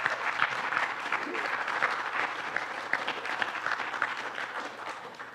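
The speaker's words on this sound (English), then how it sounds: "Let's give these guys a round of applause for being here today." Sustained audience applause at a Bismarck startup community gathering, a steady dense patter of many hands clapping at moderate distance, continuing evenly throughout.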